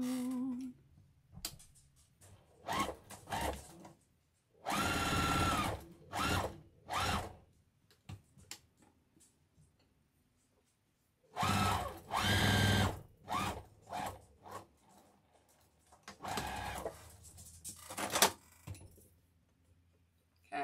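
A sewing machine stitches quilt rows and borders in several short whirring bursts separated by pauses, with light handling noises in between.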